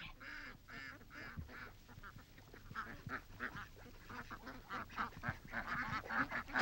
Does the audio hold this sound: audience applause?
no